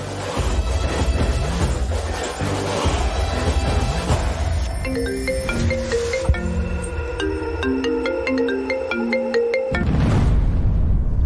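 A phone rings with a melodic ringtone during a scene in a Kannada TV drama. The tune is a loud, repeating pattern of bright notes that cuts off abruptly, laid over other noisy background sound.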